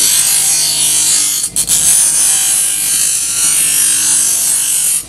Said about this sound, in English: I'm angle grinding at a 45 on that angle